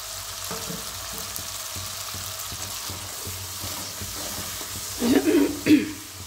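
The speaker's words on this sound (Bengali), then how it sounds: "আর একটু অল্প করে জল দিচ্ছি।" Water splashes into a pan of frying cashew masala (kaju curry), setting off a couple of loud, close sizzling bursts over a steady low crackle of cooking.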